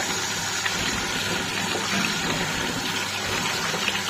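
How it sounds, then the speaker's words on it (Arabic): Kitchen tap water runs in a steady, loud, unbroken gush while boiled taro is being prepared, with no voices. "افتحي بقى الميه"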